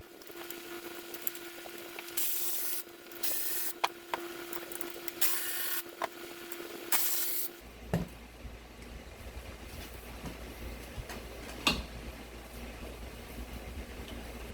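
A wrench works loose 13 mm bolts on the front seat bottom frame of a Mercedes W126 300SD, giving a run of close, rapid rasping bursts over a steady hum, then quieter scattered clicks and knocks.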